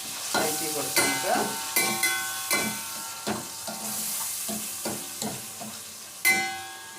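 Tomatoes sautéing in a pan for Mughlai biryani, a spoon scraping and tapping in regular strokes roughly every second over a soft, close sizzle, with one sharper knock near the end.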